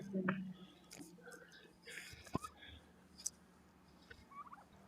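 Faint chicken sounds on a farm, with a few short clucks and squawks scattered over a quiet background with some soft rustling.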